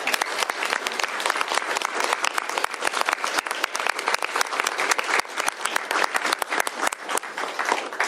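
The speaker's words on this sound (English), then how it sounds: "Round of applause." A room full of people claps at a governor's bill signing, dense, crisp and close applause that holds steady for several seconds without anyone speaking.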